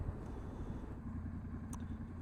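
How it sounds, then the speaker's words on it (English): A Triumph Scrambler 900 motorcycle with an aftermarket exhaust gives a steady, low, throaty engine rumble while riding, with a brief higher-pitched squeak near the end. "especially with the sound of it with this exhaust"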